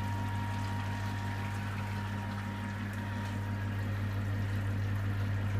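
Water pouring into a homebrew vessel during brewing, a steady continuous rushing flow with a low mechanical hum beneath, close and unbroken throughout.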